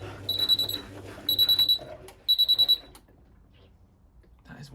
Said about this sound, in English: That is one bloody loud alarm.